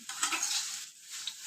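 Grated coconut roasting in ghee in a pan, with a soft, quiet sizzle and the light scrape of stirring. The sound is brief and fades near the end, with no voices.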